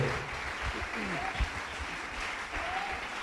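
Audience clapping hands at a Christian gathering, steady sustained applause filling the room, with faint voices and singing mixed underneath.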